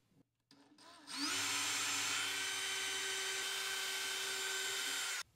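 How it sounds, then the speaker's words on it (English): A power drill bores hinge holes in a cabinet door with a jig, spinning up sharply and then holding a loud, steady whine for about four seconds before stopping. "Now we can drill our holes."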